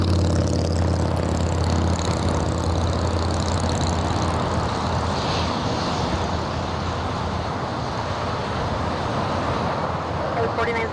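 Jet engines roar steadily and loudly at LAX airport as an airliner powers up for takeoff, with the engine noise continuous throughout and radio-style voices talking underneath.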